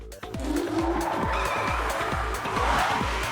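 A front-wheel drive car accelerates hard with its tires skidding and squealing, the engine revving in a rapid, repeating pattern, loud and close throughout.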